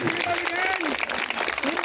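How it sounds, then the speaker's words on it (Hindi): An audience applauding at a welcome gathering in a Valmiki neighbourhood of New Delhi, steady dense clapping throughout with someone speaking loudly over it. "जोरदार तालियां बजा दीजिए"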